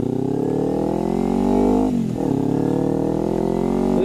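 Kawasaki Ninja 300 motorcycle riding in the rain, its engine droning loud and close with a steady pitch that dips briefly mid-way before climbing again.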